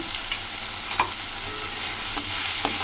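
Ground spices such as red chilli, turmeric, coriander and cumin fry with salt in a pan for a cauliflower kofta curry, a soft steady sizzle with a few light stirring knocks.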